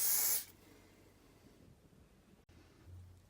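Self-tanner sprayed onto a leg from an aerosol can, one short, loud, close hiss that cuts off quickly, followed by near silence.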